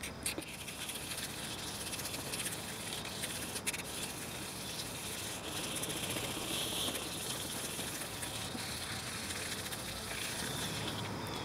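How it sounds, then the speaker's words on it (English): A headlight lens being wet sanded with 400 grit sandpaper in horizontal strokes: a close, continuous rasping hiss that holds steady for about eleven seconds with no talking. "our final sand with the 400 grit is going to be a horizontal sand, not a swirl anymore"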